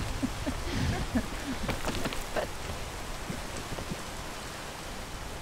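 Steady rain in the video game Peak patters and hisses on surfaces, with a few scattered clicks and taps near the start.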